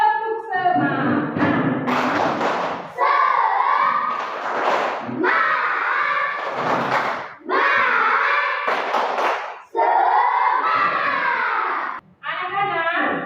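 A class of schoolchildren shouts the 'tepuk semangat' clapping chant together in a loud, rhythmic burst, with sung phrases broken up by sharp unison claps and thumps.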